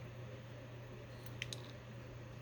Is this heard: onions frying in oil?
no